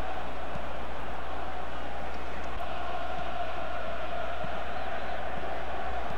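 Stadium crowd at Camp Nou in PES 2017 during an Arsenal vs Barcelona match, a loud, continuous roar of massed fans with a sustained chant-like hum.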